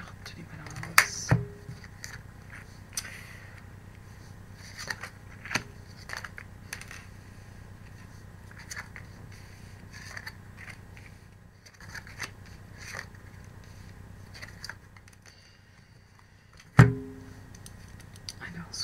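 Tarot cards handled and shuffled at close range, a few sharp clicks and soft papery scrapes scattered over a long stretch of quiet room tone, with faint speech in the background.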